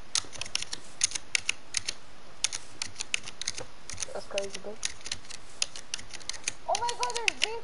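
Rapid clicky keystrokes rattle on a computer keyboard in quick bursts, close and crisp, while a person talks briefly partway through.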